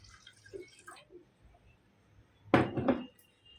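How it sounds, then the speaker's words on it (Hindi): Coconut milk poured into a pot while making Kokani bhanori in a home kitchen gives a short, wet splashing burst about two thirds of the way in, following faint clinks and a quiet room. "अभी नारियल का दूध डालेंगे।"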